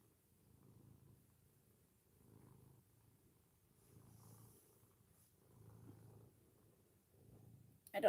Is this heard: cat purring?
yes